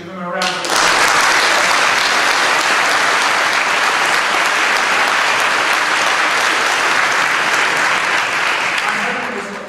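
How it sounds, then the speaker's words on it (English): Sustained audience applause for competition adjudicators at an evening music performance event, dense steady clapping from a large crowd that starts abruptly and holds loud for nearly ten seconds before tapering slightly. "Give them a round of applause."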